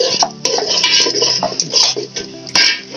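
Garlic and ginger paste sautéing in a pan for a katla fish-head and mung dal muri ghonto, with close, loud metallic clinks and scrapes of a spoon stirring against the pan in an irregular rhythm.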